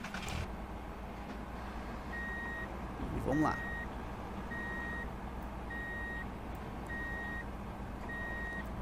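A truck in Truck and Logistics Simulator: evenly spaced electronic reversing beeps repeat about once a second over a low engine idle, with a brief rising mechanical whine near the middle and a short spoken phrase at the start.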